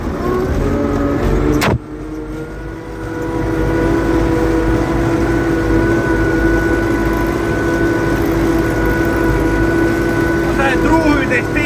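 A tractor engine holds steady at 1700-1800 rpm, a loud continuous drone with a constant tone, briefly dipping near the start before settling into an even run close by.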